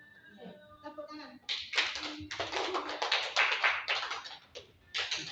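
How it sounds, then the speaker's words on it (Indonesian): Applause from a classroom or school presentation audience, a burst of hand clapping that follows a few words of speech and continues in dense, uneven waves for several seconds at a modest distance. "Tepuk tangan."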